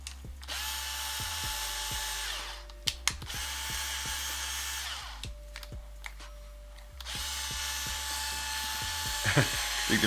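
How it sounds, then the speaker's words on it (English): A cordless drill with a weakening battery whines in several long runs, stopping and starting again, with sharp clicks and ratcheting at the pauses, close and loud, during work on converting an Ender 3 3D printer to a Core XY design. "I think the battery on my drill is ready to quit."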